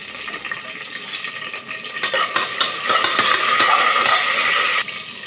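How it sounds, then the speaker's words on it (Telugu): Whole spices and curry leaves frying in hot oil in a pan for mutton keema biryani, a loud, steady crackling sizzle that swells midway, with metal utensil clatter and stirring, then drops off abruptly near the end. "మసాలా దినుసులు, కరివేపాకు వేసుకోవాలి."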